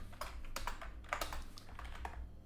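Code being typed on a computer keyboard, a steady close run of quick plastic key clicks and taps with a low hum underneath and no talking.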